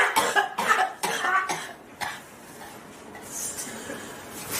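A woman coughs hard after smoking weed, several harsh bursts in quick succession that fade into a raspy throat-clearing and quieter breathing, close and loud at first.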